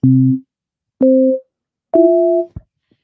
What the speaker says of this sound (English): So this is what operator 3 sounds like by itself again.